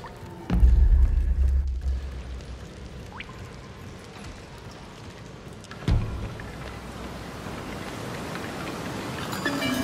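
Heavy rain in the samurai video game Trek to Yomi, a steady broadband hiss with a couple of dull thumps, no voices present.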